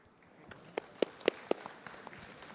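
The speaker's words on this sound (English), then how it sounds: "please join me for a round of applause for our speakers" Audience applause for conference speakers at a crypto and traditional finance event, heard as scattered, sparse claps in a quiet hall, faint and distant rather than a full ovation.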